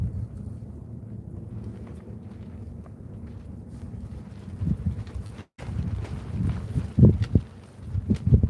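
Gusty wind buffeting a microphone outdoors beside a tent near Quartzsite, a low continuous roar that swells into stronger, irregular blasts toward the end.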